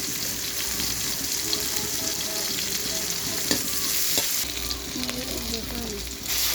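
Onion and green chilies frying in oil while being stirred, a continuous close sizzle with scraping and clinking of the spoon against the pan, louder toward the end.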